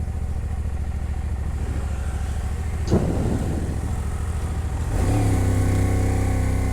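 A CFMoto 450 MT motorcycle engine drones steadily while riding on a road from Infanta, Quezon, with a loud constant hum, a brief gear-change dip, then the engine note rising as it accelerates.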